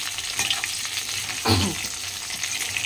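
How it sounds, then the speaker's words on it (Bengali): Pakoras deep frying in hot oil give a steady, close sizzle, with a brief louder burst of bubbling midway as more batter goes in or gets stirred. "এদিকে পকোড়া ভাজা হচ্ছে"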